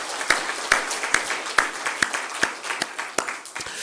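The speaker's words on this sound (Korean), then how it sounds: "우리 청년들 위해서도 크게 한번 박수하겠습니다." A church congregation applauds the youth group with even, rhythmic clapping, about nine sharp claps keeping a steady beat.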